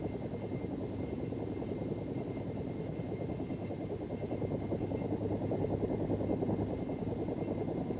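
A Bell AH-1 Cobra attack helicopter flies overhead, its rotor chop and turbine whine forming a steady, even drone that holds at moderate distance throughout.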